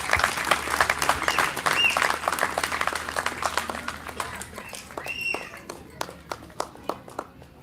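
Applause for a cricket player at a cricket academy event, a dense burst of clapping that thins into scattered individual claps as it fades.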